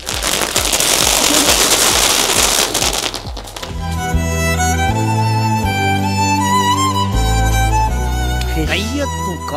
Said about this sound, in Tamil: என்னன்னே தெரியாத வெடி